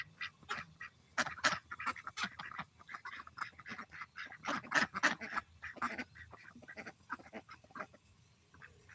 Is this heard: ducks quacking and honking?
yes